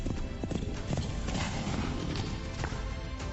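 Horse hooves clip-clop steadily in a Kentucky tourism radio ad, a continuous muffled patter of many hoofbeats, like horses running, in a dense, busy broadcast-quality mix.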